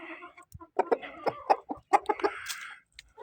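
A heavy Karis-breed rooster weighing over 4.5 kilos clucks and grunts in a quick irregular series of short calls, close and fairly loud, with a brief higher squawk near the end.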